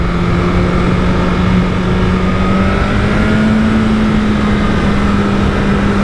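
BMW S 1000 RR sport motorcycle engine with a loud, steady roar and airbox intake noise, held close for several seconds with a slowly rising tone and no speech.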